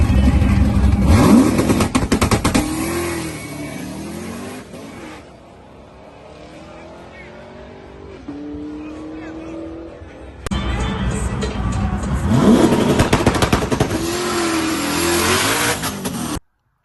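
An NXT Shift Corvette race car makes a first-gear pull, its engine revving hard and loud nearby with rising pitch sweeps, then dropping to a rumbling lull before roaring again at full throttle.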